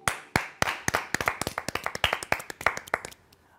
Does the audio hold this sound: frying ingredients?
no